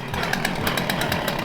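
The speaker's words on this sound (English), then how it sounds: "Jeff's bringing out the chainsaw" Chainsaw running out back at a car workshop, a steady buzzing two-stroke drone with rapid pulsing, fairly loud and continuous throughout.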